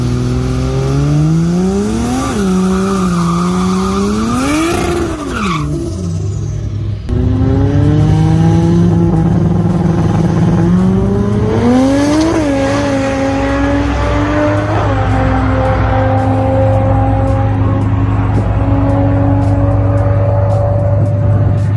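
A 1967 Datsun doing a burnout at a competition in the Australian outback holds its engine at screaming high revs, pitch climbing and dipping in waves before settling into a sustained, very loud, close wail.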